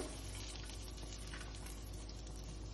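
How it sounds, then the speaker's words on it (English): Butter melting in a hot pan for Alfredo pasta, a soft continuous sizzle and bubbling that holds steady and quiet without any speech. "add some butter in the pan"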